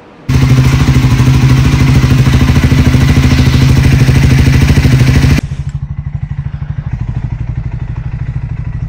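A motorbike engine warming up runs loud and close at steady high revs with a buzzing, clattering tone, then drops suddenly to a lower, pulsing idle.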